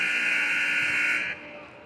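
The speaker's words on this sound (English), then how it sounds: "That's the buzzer." An arena horn sounds at the end of a hockey game between the Stars and Blues, a loud sustained buzzing blast held for over a second before dropping off, leaving crowd noise beneath.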